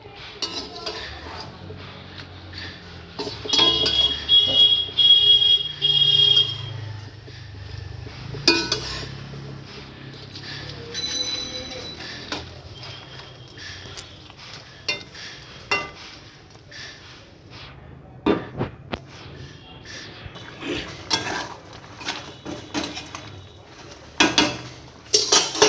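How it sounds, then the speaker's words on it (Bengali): Fried puti fish is stirred in a pan while cooking a tangy dish with olives, giving bursts of metal utensil scraping and clinking against the pan, then scattered knocks and clatter, with no talking. "ভাজা পুঁটি মাছগুলো দিয়ে দিলাম।"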